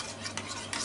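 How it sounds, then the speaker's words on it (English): Beaten egg stirred in a small bowl for a Japanese home recipe, a brief soft swishing with a few light clinks of utensil against the bowl, quiet and close. "and stir it"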